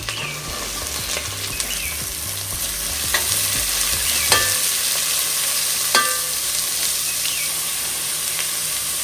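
Onions, green chillies and curry leaves fry in a pan of hot oil, a loud, steady sizzle close by, with a few sharp clicks as the spatula stirs.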